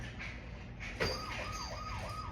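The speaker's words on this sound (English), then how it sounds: "Police car." A police car siren wails faintly in the distance, a repeating up-and-down yelp that swells and fades over a couple of seconds against outdoor background noise.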